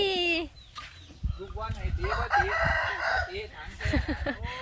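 Several chickens cluck and squawk close by in overlapping bursts, with one drawn-out crowing call near the start.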